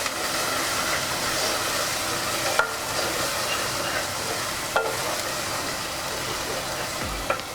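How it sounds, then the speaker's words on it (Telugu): Spices stirred into gongura chicken curry in a pan, chili powder added, giving a continuous soft sizzle and frying hiss with a few sharp scrapes of the spoon against the pan. "కారం 2 స్పూన్లు వేసి బాగా కలుపుకోండి."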